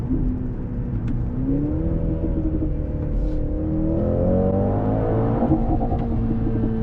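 A 2024 Mercedes-AMG C63 S with a 2-liter engine revs up in a held gear to the limiter, a loud, steady, rising drone heard from inside the cabin with no talking.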